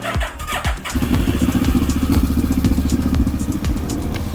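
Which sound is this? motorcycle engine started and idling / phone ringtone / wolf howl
motorcycle engine started and idling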